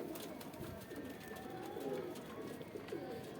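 Pigeons from Saharanpur, India, cooing nearby: soft, repeated throaty coos that overlap in a continuous low murmur, with no talk.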